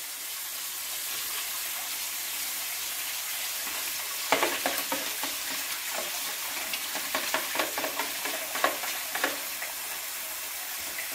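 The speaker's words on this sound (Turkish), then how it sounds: "Şimdi bu tuzumuzu suda güzelce çözüyoruz." Salt being stirred into water in a container to dissolve it for a green olive brine, giving a steady soft swishing wash with a series of light scraping clicks and taps in the second half, close and alone.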